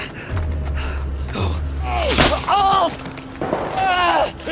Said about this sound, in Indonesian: suara tembakan kembali terdengar dan mengenai kaki Isaac